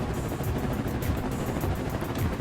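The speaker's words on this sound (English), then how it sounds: "You get the helicopter engine spinning as well." Helicopter engine spinning in the Trailmakers building game, a dense, steady rotor whir that stays loud and unbroken for a couple of seconds with no talking.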